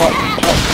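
Video game gunfire from a handheld pea shooter, a short burst of shots heard up close against a busy game soundtrack, with a sharp crack partway through.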